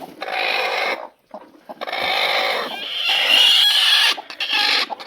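Broody country hens sit on clutches of twenty eggs each, nesting in old oil tins; low clucking and rustling fill the space almost continuously, with one short lull, close and fairly loud.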